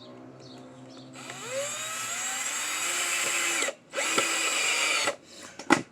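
A power drill drives wood screws into old tires, a loud, steady high-pitched whine that rises in pitch and runs for a few seconds, stops briefly, then resumes before ending in a short burst, with no talking.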